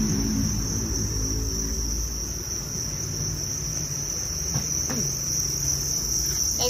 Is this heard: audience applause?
no